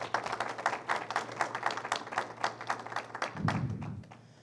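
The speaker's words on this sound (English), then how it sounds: "give them a round of applause" Audience applause at a live interfaith talk show panel, a modest crowd clapping in rhythmic, fairly distinct bursts that continue steadily before fading out near the end.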